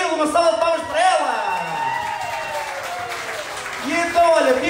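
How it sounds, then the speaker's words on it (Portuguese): Party crowd at a live show clapping and cheering, with whoops and shouts over sustained applause and a voice or music line rising in and out through it. "Uma salva de palmas para ela."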